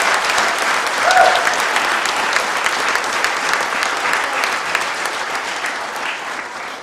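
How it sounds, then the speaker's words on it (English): Dense, steady applause from an audience at a Memorial Day tribute, a close crowd clapping continuously at an even loudness throughout. "just another round of applause for this."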